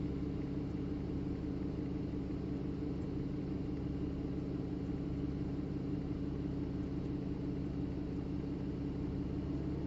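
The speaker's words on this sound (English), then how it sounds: "I'm adding load slowly, holding the RPM steady with the dyno" Turbocharged 2.34-litre car engine with a GTX3071R turbo running under load on a dyno, a steady, dense, droning rumble held at constant revs throughout, with no talk.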